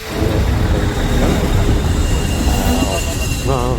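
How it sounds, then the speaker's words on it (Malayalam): A train rolls in on a Portugal-to-Spain journey with a heavy rumble and clattering wheels, and metal squeals rise near the end. "ട്രെയിൻ വന്നു."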